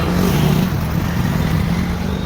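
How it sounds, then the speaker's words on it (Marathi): A Maruti Ertiga car engine runs on the road with a loud, steady low rumble and broadband road noise, holding constant with a slight hum and no speech. "ही आपली गाडी अर्टिगा."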